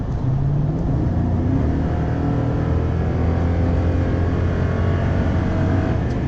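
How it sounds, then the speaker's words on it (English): A 5.7-liter V8 engine in a 2018 Toyota Tundra Platinum pickup roars close by, climbing in pitch early on and then holding a loud, steady, throaty drone. "Yeah, it's a screaming motor."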